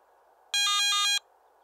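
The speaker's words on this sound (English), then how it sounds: "In addition to the flashing LED, a brief audio alarm will sound every 60 seconds." A Garrett ATX metal detector sounds its low-battery alarm: one brief, loud electronic beep pattern of about half a second, pulsing twice in quick succession, alone over faint background hiss.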